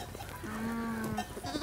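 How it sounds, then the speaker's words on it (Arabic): A single sheep bleats at a livestock trader's farm, one drawn-out nasal cry rising over a faint murmur of background noise. "شوف لنا شي خروف طري هيك نظبطه لسهيل جاي اليوم للشام"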